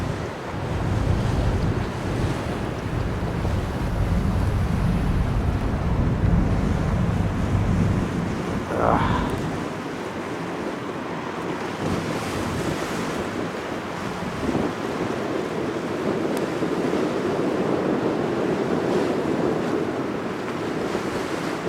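Steady wind and surf roll around a luxury yacht sailing north up the Bosphorus in Istanbul toward the Black Sea, a continuous close rushing wash with no voices.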